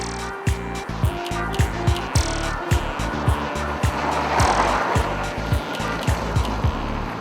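Old Mercedes with a 2.3 liter engine and 5-speed manual, a UK import in South Africa, running with a steady engine drone and a regular ticking pulse throughout, close and moderately loud.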